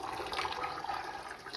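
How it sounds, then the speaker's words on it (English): Boiling water pours from a jug onto sugar in a pan, a steady close splashing rush that runs unbroken for a moment with no talk over it. "So I just want to add my boiling water to the sugar."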